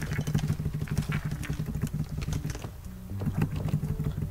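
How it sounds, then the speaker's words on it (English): A computer keyboard clicks while someone plays a game, with rapid, irregular keystrokes that sound fairly close but quiet, over a low steady hum with a brief lull near the end. "That's all clicking though."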